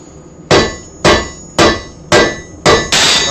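A hand hammer strikes metal on an anvil during forging, six loud, ringing blows at an even pace, each decaying briefly before the next, close up with no talking.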